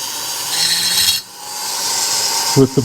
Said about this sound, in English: just deburr that with a Dremel or something